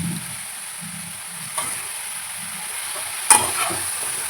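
Brinjal and drumstick pieces are sautéed in a pan with a faint, even hiss. A light stir comes midway, and a sharper scrape of a utensil against the pan follows near the end.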